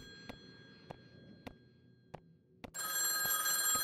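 A telephone bell rings in sharp repeated bursts, faint at first and then loud and close, with no talking.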